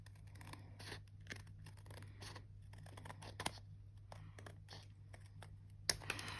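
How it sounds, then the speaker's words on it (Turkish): Scissors snip through paper for a homemade Hot Wheels car craft, a series of short, close crisp cuts and clicks spread across the stretch over a steady low hum, with no talking. "Şuradan da şöyle keselim."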